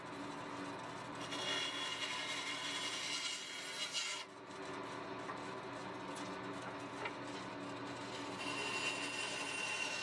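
A bandsaw cuts through wood for a guitar body, a steady quiet rasping whir that runs on continuously with a brief dip partway through, heard close with no voices.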